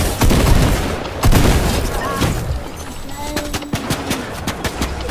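Gunfire in the video game Fortnite, rapid shots and sharp bursts from several weapons, loud and close at the start, then scattered single cracks, with a player talking over parts of it.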